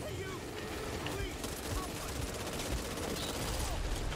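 Dense, continuous gunfire from the video game Back 4 Blood, a shotgun in use amid the fighting, with rapid overlapping shots and a rumbling background throughout.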